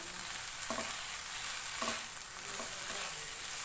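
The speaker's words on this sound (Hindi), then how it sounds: "1/2 कप शिमला मिर्च ऐड करेंगे, जिसको मैंने लंबाई में चॉप कर लिया है। मिक्स करेंगे।" Shredded cabbage and lengthwise-chopped capsicum fry in a pan, producing a steady close sizzle while a spoon stirs them with a few brief scraping strokes.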